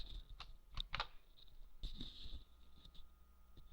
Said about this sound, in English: pressing the sequence of Control-Delete on the keyboard